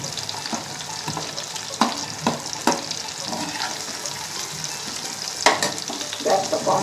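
Chilli chicken pieces sizzle steadily in hot oil in a pan, with a continuous crackling hiss and occasional sharp clatters of stirring.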